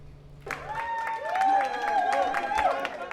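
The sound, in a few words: passengers and crew cheering aboard cruise ship Celebrity Edge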